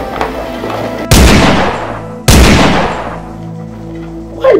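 Two loud, sharp gunshot blasts roughly a second apart, each with a long booming decay, fired by police during a battle scene; no voices.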